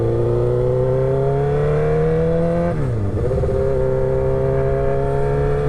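A 2006 Suzuki GSXR 1000 motorcycle engine drones loudly while riding, its pitch climbing steadily, then dipping sharply at a brief throttle change before rising again into a steady pull.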